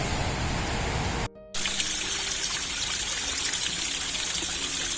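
Continuous rushing water of a waterfall stream at Tambdi Surla in the Western Ghats, loud and close, briefly cutting out for a moment before the steady splashing flow resumes.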